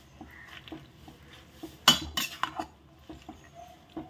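Gongura leaves stirred into chicken khichdi in a pot, soft intermittent spoon clinks and scrapes against metal with a brief louder clatter in the middle.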